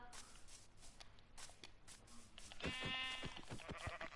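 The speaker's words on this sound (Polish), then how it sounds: "Ile jest tu tych owiec?" Sheep bleating in Minecraft, a single wavering blocky-game bleat standing out near the end after soft footstep-like thuds, moderately loud and close with no talk over it.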